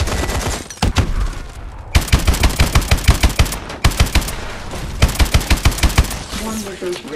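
Main gun of a mech firing in Call of Duty: Advanced Warfare, loud rapid automatic bursts in repeated volleys with short pauses between, close and dominant, no talk over it.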